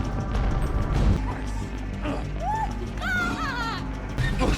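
A car smashes during a tense film car chase, with heavy crashing impacts and clattering metal mixed with loud engine roar, whining squeals and dramatic noise throughout.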